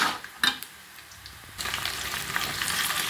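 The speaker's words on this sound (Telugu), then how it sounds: "ఇందులో ఇప్పుడు చికెన్ వేస్తున్నాం." Chicken pieces dropped into a pan of browned fried onions for a radish chicken curry, a few clattering thumps followed by a loud, steady close sizzle.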